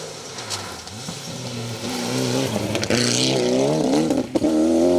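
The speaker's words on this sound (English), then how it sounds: "Here he is with Benjamin Watts driving the car." A Hyundai i20 Formula 2 rally car's engine revs hard and climbs through the gears on a rally stage, loud and close, with rising and falling pitch as it accelerates past.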